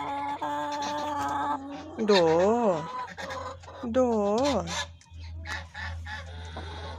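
Backyard hens cluck and give drawn-out, wavering calls, close to the listener over a steady low hum, with a few brief words spoken by a person nearby.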